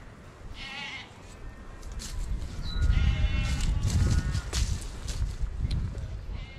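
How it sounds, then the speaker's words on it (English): Sheep bleating loudly and repeatedly in open countryside beside a coastal walking path, with wavering cries layered over rustling and footsteps close by. "Don't know about you, but that's the loudest sheep I've heard."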